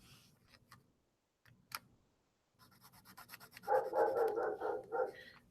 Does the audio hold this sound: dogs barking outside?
yes